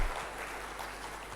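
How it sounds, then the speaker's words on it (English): An audience at a conference claps for its volunteers in a steady, dense round of applause, moderately quiet and heard alone for a brief moment. "join me in a big round of applause to thank them for all that they've done"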